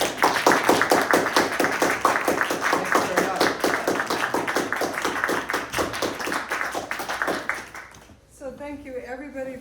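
Audience applause for readers at a spoken word poetry event at Backspace Gallery, dense rapid clapping sustained for about eight seconds before tapering off as a voice begins speaking near the end.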